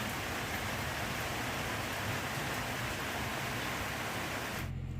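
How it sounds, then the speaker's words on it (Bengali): Steady, even patter of light rain falling outside, continuous and soft, cutting off abruptly near the end. "বাইরে টিপটিপ বৃষ্টি পড়ছে"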